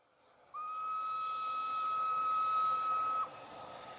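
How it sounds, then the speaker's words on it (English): A single steady train whistle blows for nearly three seconds, clear and tonal, then cuts off, leaving faint background noise. "Professor Liedenbrock and Axel take a train to Denmark"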